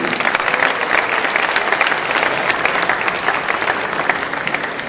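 Steady applause from an audience at a Kenya Film Commission awards event at KICC, Kenya, a dense wash of clapping that holds evenly throughout.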